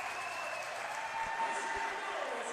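Big crowd cheering and applauding after a goal at a championship hockey game, a steady roar throughout with a commentator talking over it.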